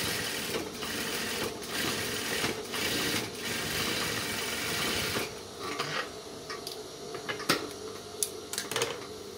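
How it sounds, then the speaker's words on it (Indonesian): A sewing machine runs steadily as it stitches along the overlocked edge of a trouser side pocket, a continuous close mechanical whir that stops about halfway, followed by scattered clicks and handling knocks. "Bagian yang diobras itu kita jahit sampai ke bagian atas."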